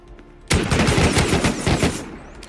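AK assault rifle firing in the survival video game Rust: a sharp onset of rapid automatic gunfire, a loud sustained burst of closely spaced shots lasting about a second and a half before trailing off.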